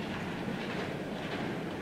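A model railway A4 locomotive runs on a branch line, giving a steady, close rumble with rhythmic clickety-clack from the wheels throughout.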